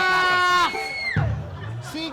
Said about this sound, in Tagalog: Sigawan kayo ng sigawan.